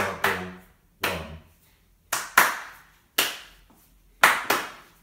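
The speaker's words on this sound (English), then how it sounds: "You can either just do hand claps, which are double one, double one." Rhythmic hand clapping in a double-single pattern, sharp close claps in pairs alternating with single claps at an even pace, with no voices.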